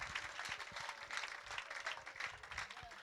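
Church congregation applauding after a sermon, a soft, fairly distant wash of many hands clapping that continues evenly throughout.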